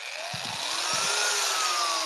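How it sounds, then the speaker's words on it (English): A Harbor Freight angle drill runs steadily with hook-and-loop sanding discs, giving a continuous high whine and sanding hiss throughout, with a few low thumps near the start and no talk. "with my Harbor Freight angle drill"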